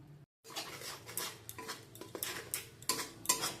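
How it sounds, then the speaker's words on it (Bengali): A metal spoon scrapes and clinks against a pot while onion-cashew paste is stirred into a potato and cauliflower curry, with irregular close knocks and scrapes following a brief silent gap. "ভালো করে সব একসাথে মিশিয়ে নেব"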